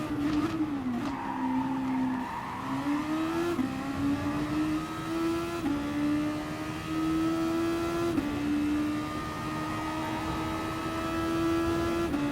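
A Super Formula race car in GT Sport at Interlagos holds a loud, sustained high engine note that rises and dips through gear changes and corners, with faint tyre scrub beneath, steady and close throughout.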